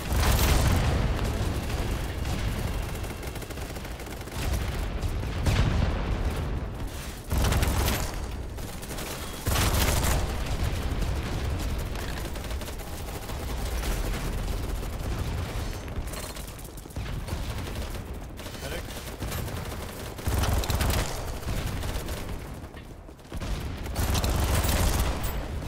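Sniper gunfire in the shooter game Battlebit, loud sharp shots cracking repeatedly over a continuous roar of battlefield noise and distant explosions, with no clear voices.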